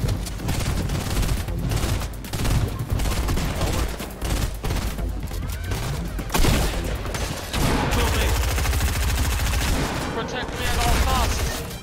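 Bursts of rapid automatic gunfire and scattered single shots crack through a Fortnite match, loud and close, repeating in dense clusters throughout. A player's voice talks over the shooting now and then.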